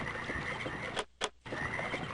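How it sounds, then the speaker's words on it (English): Steady, even machinery drone from the engine in the video game Myst runs throughout, breaking into a brief near-silent gap with a short burst in the middle before resuming at the same level. "now you can hear the engine moving"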